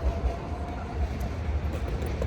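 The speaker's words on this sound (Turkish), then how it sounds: "Tramvayı kapattılar. Tramvaycı bizi bıraktı. Çekti gidiyor." A public tram in New Belgrade pulls away with a steady, dense rumble of wheels and motor that fills the air close by, with no clear talk over it.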